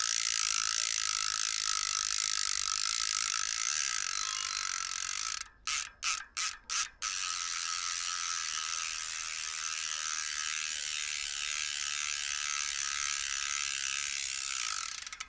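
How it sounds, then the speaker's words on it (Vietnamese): Freehub ratchet on a Zipp 404 bicycle wheel buzzes as a fast, steady, close-miked clicking whir, with a brief stutter of separate clicks partway through before the continuous ratchet resumes. "em để sát cái mic đây em quay thử cho các bác nghe cái tiếng cối của nó"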